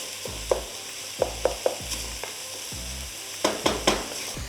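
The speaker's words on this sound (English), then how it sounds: "This is sizzling nicely." Lemongrass frying in a hot pan, a steady close sizzle broken by repeated sharp clatters of stirring, with no voices.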